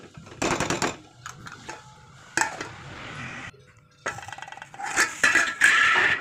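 Potato upma being stirred in a pan, bursts of spoon scraping and clanking against metal in short irregular rounds with brief pauses between, close and fairly loud.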